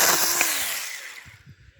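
Cordless battery chainsaw cutting through wood, a loud whining buzz that tapers off as the cut finishes, followed by a few faint knocks near the end.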